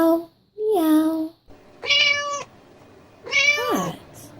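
A voice imitates a cat's meow several times, clear rising and falling tonal calls with pauses between them, close and alone.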